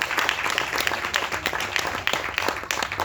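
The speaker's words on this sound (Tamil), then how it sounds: "சந்தோஷ்குமாருக்கு நம்ம ஒரு கைத்தட்டி பாராட்டு தெரிவிச்சுக்கலாம்" A crowd at a movie audio launch applauds for producer Santhoshkumar, moderately loud, dense clapping continuing steadily throughout, a faint voice underneath.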